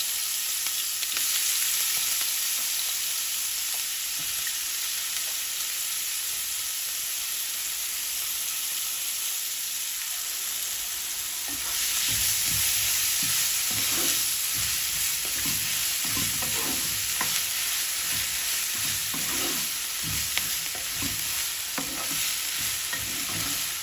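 Onion paste fries in a pan for achari begun, a steady close sizzle with a louder, busier stretch of stirring scrapes in the second half.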